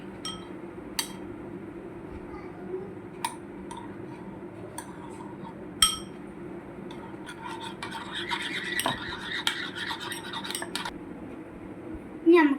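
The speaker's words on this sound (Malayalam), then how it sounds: "ഇനി നമുക്ക് മിക്സ് ചെയ്തെടുക്കാം." Eggs being mixed with capsicum, tomato, chilli, onion and salt in a bowl for an omelette, heard as light clinks and scraping of a utensil against the bowl, with a denser stretch of stirring toward the end.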